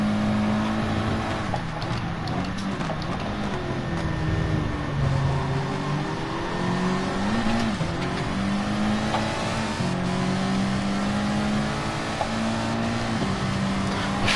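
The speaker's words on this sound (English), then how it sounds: "Ferrari does sound amazing though from behind. You can just hear all the gear changes coming from the engine." A Ferrari Gr4 race car in Gran Turismo Sport at Suzuka howls continuously, its engine pitch rising and dropping through repeated gear changes, loud and steady with no voices.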